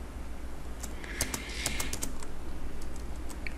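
Computer keyboard keys are pressed for an Alt+Enter shortcut while working in Excel, giving a short cluster of crisp, close clicks over quiet room tone.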